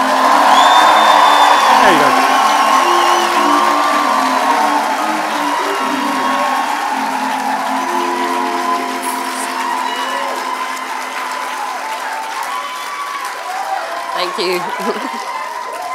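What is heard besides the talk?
audience applauding and cheering for a performer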